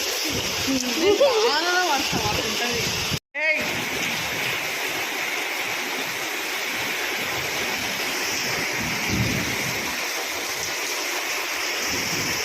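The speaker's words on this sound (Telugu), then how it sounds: "ఉరుముకుంటా పడుతుంది ఫుల్గా" Heavy, unseasonal rain pouring steadily as a dense, constant wash, with no clear thunder and only a brief faint voice early on.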